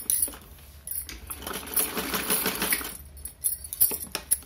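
A sewing machine stitching fabric for a small doll outfit, a close rapid mechanical whir that runs for a couple of seconds between scattered ticks and clicks.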